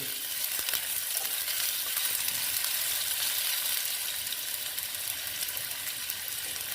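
Diced potatoes with turmeric fry in oil in a pan, giving a steady, soft, high crackling sizzle with faint scraping. The sound is close but fairly quiet and continuous, with no voices.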